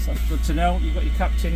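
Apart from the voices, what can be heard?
No distinct noise like a dog, phone or traffic.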